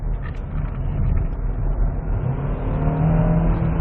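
Hyundai Tucson Hybrid accelerating hard uphill, a steady low engine and road drone building slightly in strength from inside the cabin, with no talk.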